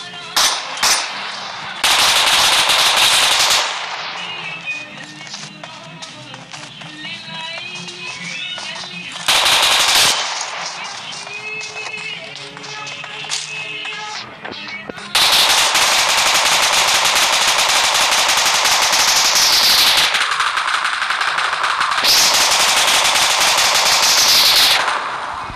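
Loud bursts of automatic machine gun fire fill a war video game set in the Battle of Jerusalem, long sustained volleys repeating close up with short pauses between them.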